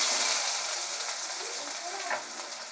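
Chopped onions hit hot oil in a pan, a bright steady sizzle that fades slightly over a couple of seconds with a soft stirring scrape near the end.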